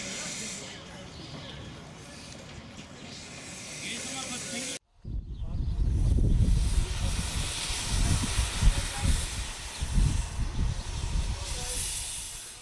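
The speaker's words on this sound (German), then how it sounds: "Aber auch die anderen Dampfloks des Museums sorgten für eine stimmungsvolle Atmosphäre, wie hier die Jacobi von Jung aus dem Jahr 1906." Steam hisses steadily from a 1906 Jung steam locomotive named Jacobi at a railway museum, a broad continuous rush that cuts out briefly and returns louder and fuller.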